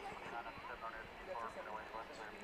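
A plane passes over Dallas Fort Worth International Airport during a plane-spotting session, its engine roar a steady broad rumble under nearby talking voices.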